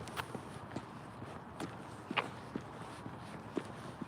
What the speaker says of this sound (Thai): รองเท้ามีเสียง หนูเดินไม่เดินแทบไม่มีเสียง